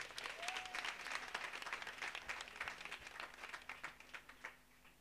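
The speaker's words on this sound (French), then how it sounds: "Ovation pour le père Florent." Church congregation at a parish patronal feast giving Father Florent an ovation, dense sustained clapping from a crowd that fades toward the end.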